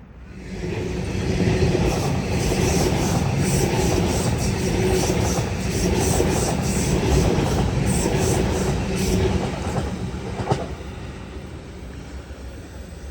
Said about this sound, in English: That Waratah is off to Richmond.